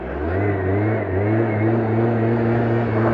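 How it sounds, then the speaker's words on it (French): A white 2014 MBK Booster Naked scooter that tops out at 70 km/h, its engine revving steadily and droning at a close, even pitch with a slight dip partway through, no talking. "je roule sur un MBK Booster blanc 2014 Nakel qui monte à 70 km/h"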